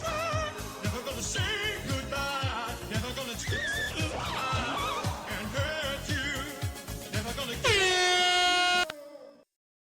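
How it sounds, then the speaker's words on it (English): Air horn sound effect blaring through a busy stretch of electronic rhythm game music with thumping beats, ending in one long sustained horn blast that cuts off into silence. "Needs more air horn."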